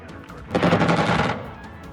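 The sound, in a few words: missiles fired in Xenonauts video game air combat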